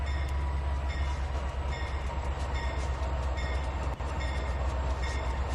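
A switcher locomotive in the game Trainz 19 gives a steady low diesel rumble, with faint rhythmic higher tones pulsing over it and one brief click.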